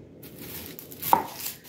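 A kitchen knife strikes an onion on a cutting board once, sharp and close, amid faint soft handling noises.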